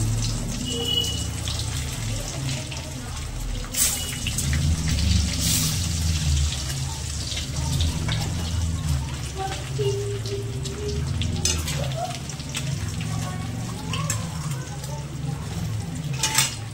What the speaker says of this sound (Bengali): তো ডিমগুলো অলমোস্ট ভাজা হয়ে গেছে